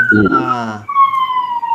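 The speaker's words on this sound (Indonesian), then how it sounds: "saya bercakap sebab masuk bunyi ambulan" An ambulance siren wails, its tone sliding downward in drawn-out sweeps, loud and heard through a podcast microphone, with a voice briefly overlapping at the start.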